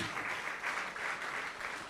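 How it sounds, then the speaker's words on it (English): An audience at a live event with young achievers such as a national swimming medallist applauds steadily, a dense, even wash of clapping held for the whole stretch without voices on top. "A good round of applause for all the young achievers."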